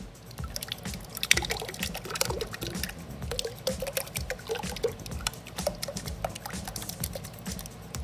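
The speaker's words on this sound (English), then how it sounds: "So then we pour it in." Water poured into a bucket of shredded paper pulp for homemade paper making, a steady close splashing trickle with small drips and clinks over about eight seconds, no talking.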